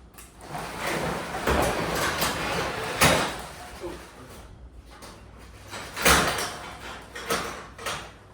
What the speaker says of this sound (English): I'm gonna have my son hit the button to raise the door to kind of help